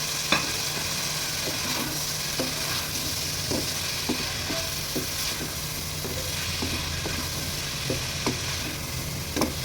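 Carrots, peas and green chillies sizzle in chicken stock in a pan for Chinese kebabs, a constant simmering hiss with regular soft scrapes and taps of a spoon stirring close by.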